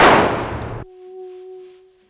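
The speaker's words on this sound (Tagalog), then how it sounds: "Maya-maya isang malakas na putok ang umalingaw-ngaw." A single loud gunshot cracks out at close range during a struggle over a firearm, followed by a sharp metallic ringing tail that fades out.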